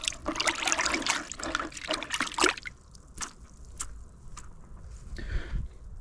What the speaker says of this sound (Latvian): Sāls iekšā ar rokām izmaisim.